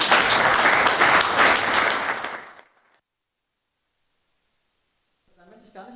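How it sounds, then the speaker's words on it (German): Applause from a conference audience for a festival organizer at a Linux tech event keynote, dense and loud for about two and a half seconds before stopping abruptly, followed by silence and then faint speech. "vermutlich beschäftigt, einen besonderen Applaus."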